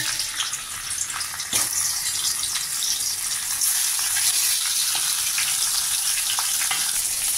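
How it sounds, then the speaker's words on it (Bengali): Rohu fish heads fry in hot oil that sizzles and crackles steadily, with occasional sharp pops and spatters throughout. "যে তেল দিয়ে দিলাম, মাছের মাথাগুলো ভেজে নেব।"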